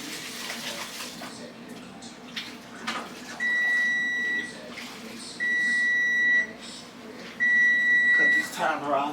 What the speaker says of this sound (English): Cut this timer off.